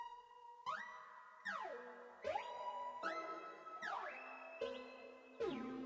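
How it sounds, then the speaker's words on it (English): Alien Invasion arpeggio preset from Analog Lab, slowed with a halftime effect, plays as a faint sequence of gliding synth notes that bend up and down in a repeating pattern, each new phrase starting with a soft attack. "I went back into Analog Lab, and I grabbed this Alien Invasion arpeggio"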